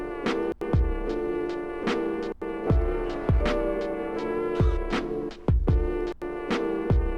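A lo-fi music sample with plucked, percussive notes and sustained tones, each note trailing off into a spacious reverberant tail from an added reverb effect; steady and fairly loud.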